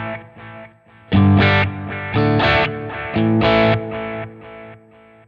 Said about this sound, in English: BBD, this is an old analog delay.